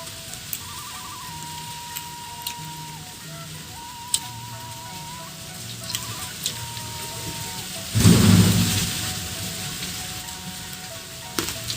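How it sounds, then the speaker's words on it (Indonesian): Rain falls outdoors as a steady hiss with occasional drips, joined by faint tonal hums, and a louder rushing swell around the two-thirds mark that fades slowly. "maaf kalau misalnya suaranya ada noise gitu, karena di sini lagi hujan"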